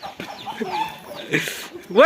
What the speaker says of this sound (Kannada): ಇವತ್ತು ಕೋಳಿ ಹಿಡಿಯೋ ಟಾಸ್ಕ್ ಇದೆ